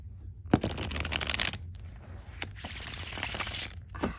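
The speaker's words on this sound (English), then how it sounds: "It is such a satisfying shuffle." Tarot cards from a freshly opened indie deck are riffle-shuffled up close, with crisp rapid fluttering bursts separated by brief pauses and soft taps as the deck is squared, no voices.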